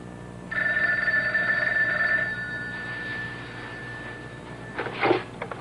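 Telephone bell ringing indoors, a single sustained electronic ring lasting about two seconds that fades out, followed by a quiet room and a brief clatter like the receiver being picked up.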